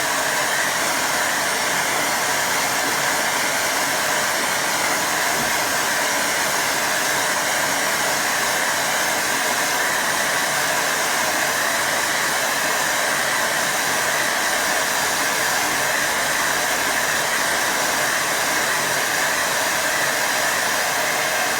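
A hair dryer blowing on a wet watercolour painting gives a loud, steady close-up whoosh and whine, unbroken for over twenty seconds with no voices.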